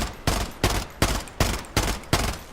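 Gunfire from a heavy-recoil weapon in the shooter game Blood Strike: six loud, evenly spaced shots about a third of a second apart, each with a sharp crack and a short ringing tail.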